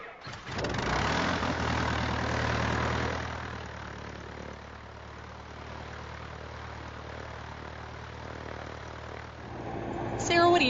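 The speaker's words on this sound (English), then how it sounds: "I'm getting ready to start the engine, Meg." Light propeller aircraft engine cranking and catching, then settling into a steady rumbling idle with the prop turning, loud at first and easing slightly, with a short burst of other noise at the very end.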